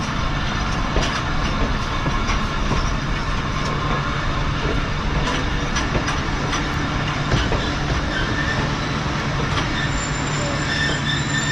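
Karachi Express at Bahawalpur railway station in heavy rain, with a steady loud rumble of rail cars and wheels, squeals and clicking over continuous rain-like hiss, no voices.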